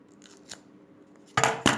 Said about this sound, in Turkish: O zaman dikkatli bir şekilde keseceğim.